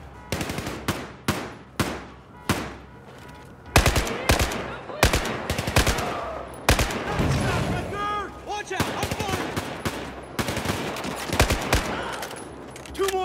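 Gunfire in the Battlefield 4 video game campaign: sharp, loud shots in rapid bursts and single cracks throughout, with shouted voices in between.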